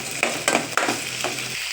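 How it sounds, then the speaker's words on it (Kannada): Onion, capsicum and ginger garlic paste fry in a pan for gobi manchurian, giving a steady close sizzle with a few sharp spoon scrapes and stirring clatters, and no voices. "ಈಗ ಸ್ವಲ್ಪ ಫ್ರೈ ಮಾಡೋಣ."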